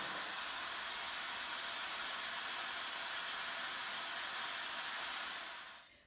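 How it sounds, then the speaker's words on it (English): Dyson Supersonic hair dryer blowing a steady, loud rush of air for about five seconds, with no talking, then cutting off abruptly at the end. "as soon as you let it go, it blows hot air again, almost instantly."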